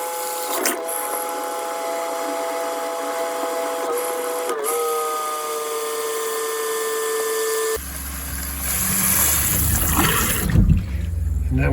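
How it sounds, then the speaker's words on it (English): A van's water pump runs with a steady, high-pitched electric whine while filling an RV toilet, punctuated by a few sharp clicks, then gives way to louder rushing, spraying water near the end. "With the pump on, I will fill this toilet up to where it's spraying 3 times."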